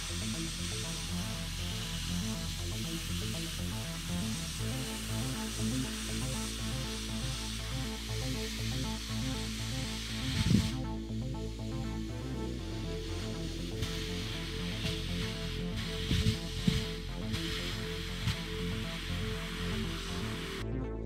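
Paint sprays in a long, continuous hiss onto rusty, weathered Alchemite furnaces. A steady mechanical hum runs underneath with a few faint knocks, and no voices are heard.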